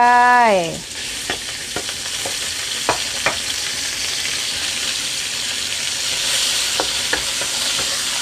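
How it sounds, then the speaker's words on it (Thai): Pork stir-fried with garlic in a hot pan, a steady close sizzle with scattered scraping clicks of the spatula throughout, after a brief falling tone at the start. "ผัดหมูให้สุกค่ะ"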